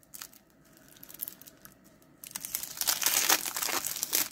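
Crinkly cellophane wrapping is peeled and torn from a 1989 Fleer baseball card rack pack, starting with light rustles and building into louder, dense crackling close to the microphone.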